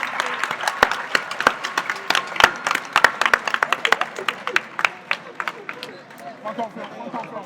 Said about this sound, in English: A resounding round of applause to celebrate.